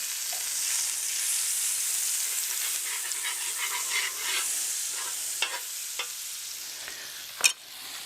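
Butter sizzling on oil across a Blackstone portable griddle's flat top, a broad, steady hiss with small pops and a sharp utensil clack near the end.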